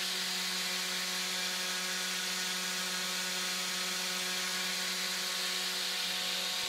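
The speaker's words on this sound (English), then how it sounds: "To sand the Bondo repair, I ended up using a 220 grit on my orbital sander" An orbital sander fitted with 220 grit paper hums continuously at steady, loud volume, sanding a Bondo repair on wooden drawers, with no break and no voices.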